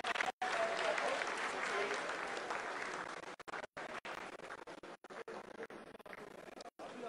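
Applause in ISRO mission control during the Chandrayaan-3 lunar soft landing, a sustained, faint wash of clapping with abrupt dropouts, as a voice speaks over it.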